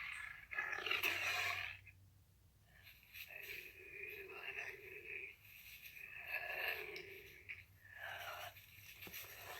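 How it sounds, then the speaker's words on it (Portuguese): An ocelot's call, a rough roaring, wheezy cry likened to a small lion, repeated in several loud bursts with short gaps between them. "Então agora vamos ver o jaguatirica, que parece um tigrinho"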